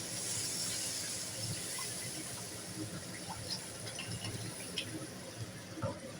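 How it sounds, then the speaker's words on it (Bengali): Water pours and hisses into spiced fish curry simmering in a pan, a steady bubbling rush near the start that settles into softer bubbling with faint clinks. "এখন আমি দিয়ে দেবো পরিমাণ মতো জল"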